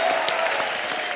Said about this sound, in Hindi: एक बार जोरदार ताली भिड़ो लोग।